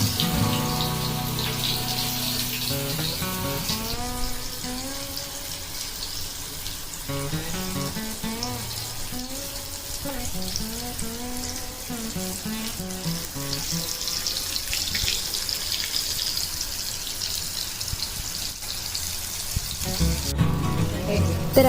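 Halwa fish pieces coated in semolina and flour fry in a pan with a steady, even sizzle, heard under background music that plays throughout.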